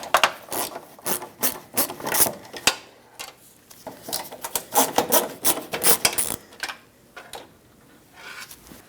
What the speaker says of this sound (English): Use a Phillips head screwdriver and remove them both.